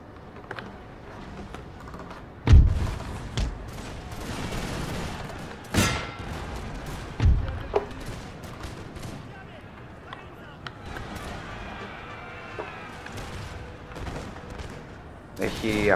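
Cannon and musket volleys in the Napoleon: Total War strategy game, several sharp booming blasts standing out over a dense battlefield din, with someone commentating over the fighting.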